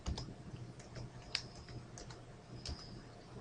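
A date being typed on a computer keyboard into an Excel worksheet, a short run of quiet, close key clicks at an irregular pace over a faint background hum.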